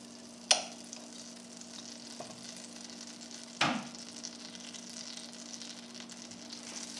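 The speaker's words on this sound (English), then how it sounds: "I'm going to put in my butter. And we're going to let that start melting." Butter melts in a preheated pan for pan-seared scallops, giving a low, even sizzle throughout. Two sharp clicks stand out near the start and midway, and no one speaks.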